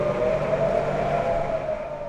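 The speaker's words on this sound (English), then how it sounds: "Back in Israel, sirens again in the same place." Air raid sirens wail over an Israeli town during a rocket attack, a steady sustained tone holding loud and unbroken against a broad rumbling background with no voices.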